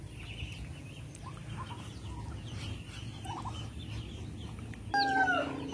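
Muscovy ducks on a farm give scattered soft, throaty calls over a low rustling background, then one louder, closer call bursts out near the end.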